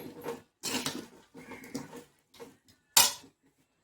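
Pieces of taro root being stirred and tossed in a frying pan with salt, giving a few separate scraping and clinking bursts of utensil against pan, with one sharp clink near the end.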